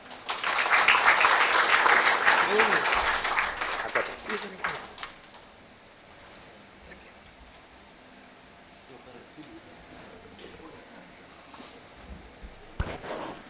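A college lecture audience breaks into loud, sustained applause with dense clapping that fades after a few seconds, followed by a quieter room with a voice speaking over a microphone.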